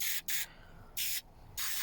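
Mr Muscle cleaner sprayed from a bottle onto carbon deposits in three quick hissing bursts, close and fairly faint, separated by brief pauses.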